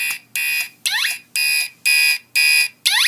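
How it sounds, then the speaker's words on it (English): A fire alarm panel, a Commander 4 running on a small test system with signal coding applied, sounds its alarm in sharp, loud electronic tones. The bursts repeat in a regular on-off pulse, and a few of them carry a rising sweep. "You can see it returns to its alarm stage."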